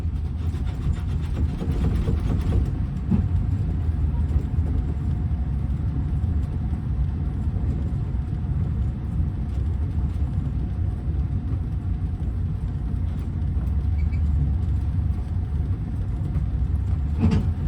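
A vehicle towing a motorhome on a tow bar rolls along a Kentucky road, a steady, loud low rumble of engine and road noise throughout, heard close and continuous from inside, with no talk.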